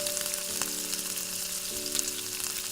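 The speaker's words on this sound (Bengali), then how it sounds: "চিলি সসটা দিয়ে একটু নাড়াচাড়া করে" Chili chicken sizzles and fries steadily in a pan with chili sauce, stirred with a few scraping knocks of the utensil. The frying is close, loud and constant, with no voices.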